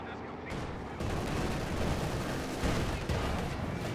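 Continuous battlefield gunfire from an MG machine gun team in Company of Heroes 2, dense crackling bursts layered with distant explosions, steady and loud throughout with a sharp rise after the first second.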